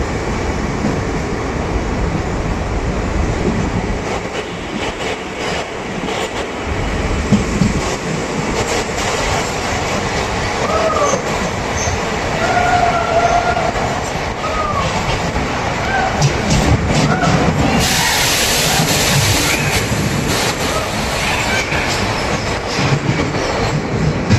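Riding a DEMU train between Bidar and Kalaburagi via Humnabad, a constant heavy rumble of wheels and track fills the whole span, with clickety-clack, brief wheel squeals and a burst of hissing wind, heard close up.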